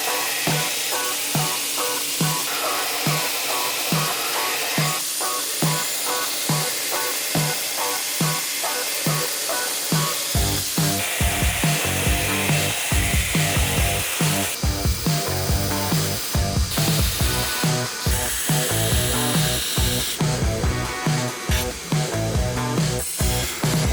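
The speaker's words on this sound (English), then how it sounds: "And then we start the grinding and polishing." A feather-pattern Damascus steel knife blade is ground on a machine, a continuous loud abrasive rasp with a rhythmic pulsing that grows harsher and brighter partway through, with no talk.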